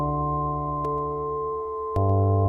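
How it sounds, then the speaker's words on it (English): A Zentangle drawing translated into computer-generated music: steady, sustained electronic tones layered in harmony, shifting to new notes twice, playing moderately quietly and alone with no talk. "What you are hearing is a Zentangle drawing actually being played by a computer."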